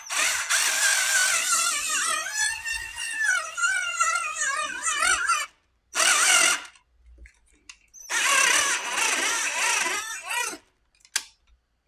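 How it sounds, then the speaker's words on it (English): Drill bit boring into an aluminum piece without cutting fluid, a close, loud, whining grind with a wavering pitch for several seconds, then a short burst and another sustained stretch before brief final touches. "Just let the drill kind of bite it."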